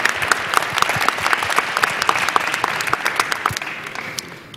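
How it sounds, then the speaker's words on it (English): Town hall audience applauding at a mayor's event on the opioid crisis, dense steady clapping from many hands, loud and close, fading slightly toward the end. "Let's give them a round of applause for that."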